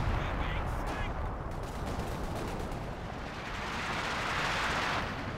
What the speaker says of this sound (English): these last two Panzerwerfer barrages haven't been very successful at all.